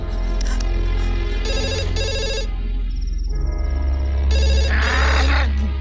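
A telephone rings in repeated bursts of bright electronic trilling, with a low steady hum underneath and a brief pause between rings.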